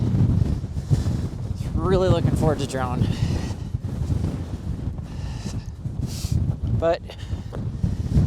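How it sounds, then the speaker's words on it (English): Strong wind buffets an outdoor microphone on a windy, sunny day at Valley of the Gods in Utah, a constant low rumbling roar running throughout while someone talks briefly over it. "Really wish this had not been a windy day."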